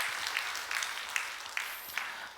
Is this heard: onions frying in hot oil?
no